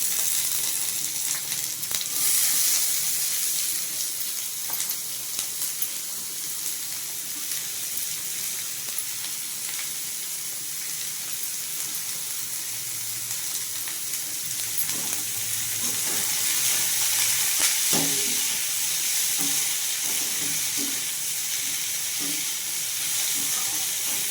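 Onions and curry leaves sizzle in hot oil in a pan for a long stretch, a continuous close frying hiss with occasional stirring clinks and no talking.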